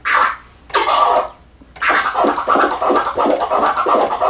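Rapid vinyl scratching, a quick whooshing sweep followed by a pause, then a run of choppy back-and-forth scratch strokes, loud and close.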